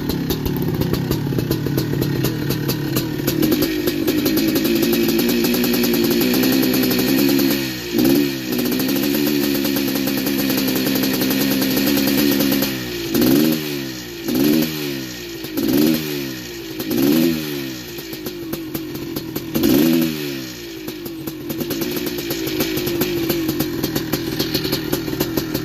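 A 1983 Yamaha IT490 big-bore enduro motorcycle engine idles while warming up, its loud, steady, close-up chug broken by several short throttle blips that rise and fall.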